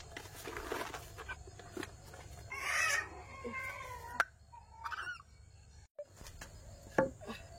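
Chickens clucking and squawking outdoors beside a lakeside, with bursts of agitated fowl calls over a busy rustling background.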